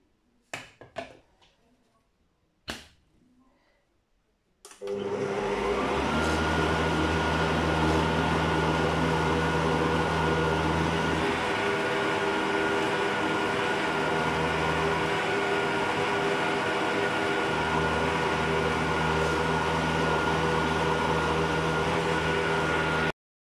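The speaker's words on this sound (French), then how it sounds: "Maintenant, je vais mixer tout ça." Blender mixing leek and potato soup with turmeric, starting with a few clunks and then roaring into a loud, steady whir that continues for nearly twenty seconds close by.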